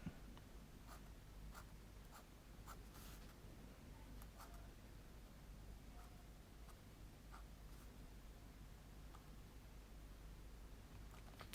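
Steady scratchy strokes of a PAScribe tool on a Rhodia paper pad, pressed firmly, with soft rhythmic drags and small ticks repeating close up and quiet throughout.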